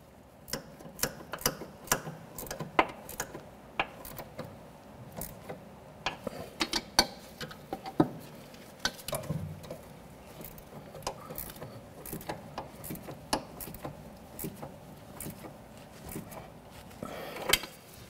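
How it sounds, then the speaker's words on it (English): A 3/8 drive ratchet turns an inner tie rod tool counterclockwise on a 2004-2006 Scion xB power steering rack, giving rapid close clicks in uneven bursts with brief pauses. "I'll tighten it up, then we'll turn this counterclockwise to unscrew it from the power steering rack"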